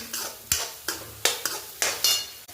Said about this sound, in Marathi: तर आता ही केळी व्यवस्थित परतती आहे शिऱ्यासोबत